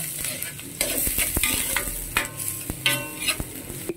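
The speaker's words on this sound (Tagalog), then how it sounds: "So mag-saute tayo na." Onion sautéing in cooking oil in a pan for Filipino pancit luglog, with soft crackling sizzle and repeated sharp clicks and scrapes of a utensil stirring, moderately quiet and close, no talking.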